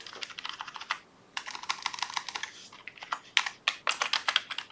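Computer keyboard typing, rapid close-up clicking keystrokes in bursts with a brief pause, then sharper, louder taps toward the end, no voices.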